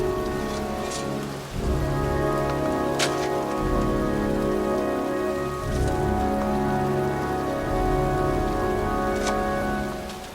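Pouring rain falls steadily on a cemetery in the video game Heavy Rain, a dense continuous hiss of heavy drops with occasional sharper splashes throughout, loud and close with no voices.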